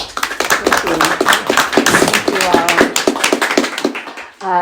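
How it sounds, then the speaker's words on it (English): Audience clapping for an author at a community bookstore talk, a lively patter of hands with sharp individual claps, heard close, while voices speak over it throughout. "let's just all give a round of applause for"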